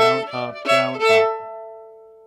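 Old-time fiddle bowing the first phrase of the low part of Old Jimmy Sutton in a bow tie pattern: four short, crisp bowed notes in quick rhythm, ending on a long ringing note that slowly fades, played alone and close.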